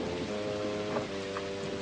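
Rain falling at night as a radio drama sound effect: a steady, even hiss of rainfall with a faint low hum beneath it.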